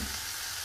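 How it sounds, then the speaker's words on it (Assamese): Local chicken fries in a mix of water and oil, giving a brief, steady crackling sizzle. "সেই পানী আৰু তেলতে এইখিনি আমি ভাজিম"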